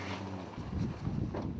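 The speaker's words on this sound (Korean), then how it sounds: "바람이 세게 불긴 해도 출항이다." Strong wind roars over a fishing boat at sea, producing steady broadband buffeting with low rumble and gusty surges throughout, with no voices.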